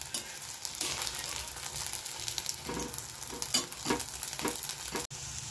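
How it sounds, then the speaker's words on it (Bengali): Flour dough pieces deep frying in hot oil, a steady close bubbling sizzle with periodic stirring scrapes, continuous for several seconds and then cutting briefly. "ময়দাগুলো বেশ সুন্দর করে লালচে লালচে করে ভাজা হচ্ছে আর ফুলেও উঠেছে খুব সুন্দর হয়ে"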